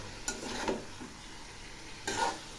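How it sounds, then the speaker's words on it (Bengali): Spices for a Bengali cauliflower korma fry in oil, a soft steady sizzle with two short bursts of stirring scrape close by, fairly quiet overall. "এগুলি কষানো প্রায় হয়ে আসছে, আর একটু কষাবো।"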